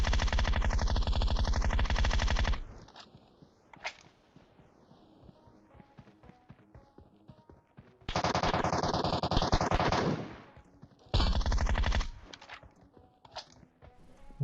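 Bursts of rapid automatic gunfire in PUBG Mobile, loud sustained volleys separated by quieter stretches with scattered single shots.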